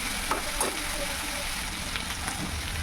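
Paneer frying in a pan with potatoes and khoya for a vegetarian curry, heard as a steady low sizzle with faint stirring clicks. The frying is quiet and continuous.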